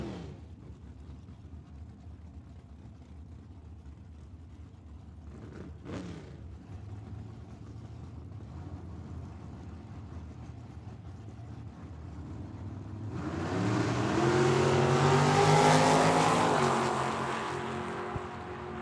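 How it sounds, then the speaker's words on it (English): A Chevrolet Monte Carlo drag car at Tucson Dragway does a burnout, rising late into a loud, harsh engine roar with tire noise after a long stretch of distant low rumbling and a brief passing whoosh. "Doing a nice burnout out of Mexico in the Monte Carlo"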